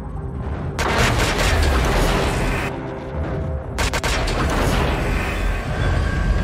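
Loud, sustained sci-fi spaceship cannon fire in a space battle with booming, crackling bursts that pause briefly, then resume, forming a rumbling barrage of blasts.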